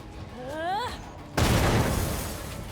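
A grenade explodes in Warhammer 40,000: Rogue Trader, a sudden loud, crackling blast that follows a man's brief speech and rumbles on as it decays.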